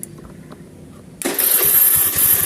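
A motorcycle engine cranked by its electric starter and catching, a quiet moment followed by a sudden jump into a steady, loud running engine note up close.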